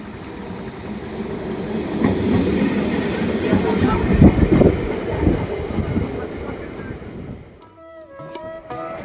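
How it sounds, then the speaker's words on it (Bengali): A train pulling into Kazipara Halt, a rural station near Katwa, a loud rumbling roar with rattling wagons that swells, then drops away near the end as squealing brakes and high metallic tones take over. "সঠিক সময়ে আমার ট্রেন চলে এসেছে"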